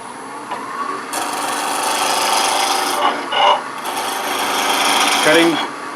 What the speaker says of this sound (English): just raise this up just a little bit for a planing cut